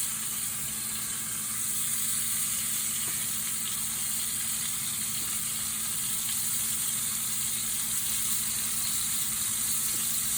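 Flour-dredged liver fries in a hot pan, giving off a steady, close sizzle that crackles evenly with no break and no voices.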